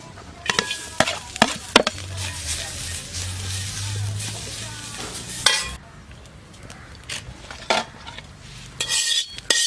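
Grated coconut is dry-roasted in an empty pan, with a spatula repeatedly scraping and clinking against the metal in close, irregular knocks over a faint low sizzle.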